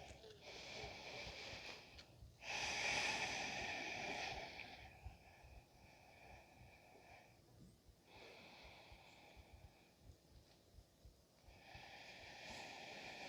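Slow, deep breathing in a quiet room during a standing yoga pose, with long soft inhales and exhales at close range and a louder, fuller breath partway through.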